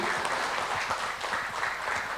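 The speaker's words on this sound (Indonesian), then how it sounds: "Boleh tepuk tangan buat para founder dari GNFI." An audience at a culture festival applauds the founders of GNFI, a fairly faint, even patter of clapping throughout.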